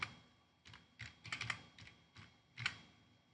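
Computer keyboard typing heard close and quiet, short bursts of key clicks in an irregular rhythm with brief pauses between them.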